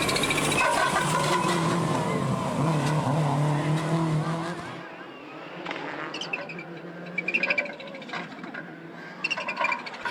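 A rally car on the Tour of Mull 2008 roars loudly for several seconds, then cuts away to quieter, uneven engine sputters and bursts suggesting a rough-running motor.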